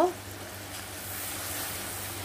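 Okra with turmeric sautéing in a pan, a steady soft sizzle and hiss of frying vegetables holding evenly throughout.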